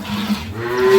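A dairy cow on a Bangladeshi agro farm lets out a single drawn-out, fairly close moo that swells in loudness toward the end.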